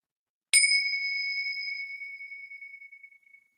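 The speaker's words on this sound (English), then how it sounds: "So I'm going to try and ring my bells here." A meditation bell is struck once to mark the start of a session, a single clear, loud ring that sustains with a bright ringing tone and slowly fades over about three seconds in silence.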